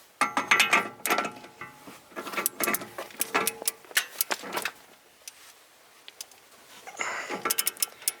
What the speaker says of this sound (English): I'm going to torque it to the factory 214 pound-feet of torque.